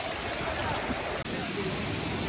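Spring water from a chashma rushes down a rocky mountainside by the River Swat, a steady, dense, close roar of flowing water without a break.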